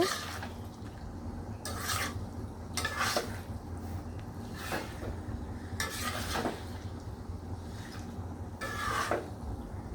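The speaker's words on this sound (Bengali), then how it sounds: "খাসির মাংসের সাথে মশলাগুলো ভালোভাবে নেড়েচেড়ে মিশিয়ে নেব" Spiced mutton being stirred in a pot, a spoon scraping and rasping against the metal in repeated strokes roughly every second, fairly quiet and close, with no talking.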